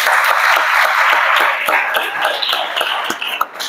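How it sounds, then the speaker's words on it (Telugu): A church congregation clapping loudly together, a dense, steady burst of applause that thins out slightly toward the end. "చప్పట్లు కొడదాము గట్టిగా"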